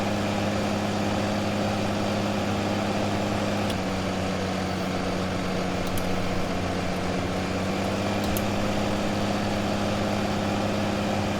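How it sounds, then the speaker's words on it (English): Steady, droning tractor engine in Farming Simulator 2015, a low rumbling hum that runs continuously and evenly at moderate loudness throughout, with no talk over it. "This tractor is slow."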